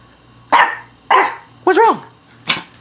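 A small-nosed pet dog indoors barks four times at a steady pace, close and loud, the third bark rising into a wavering yelp; a low hum runs underneath.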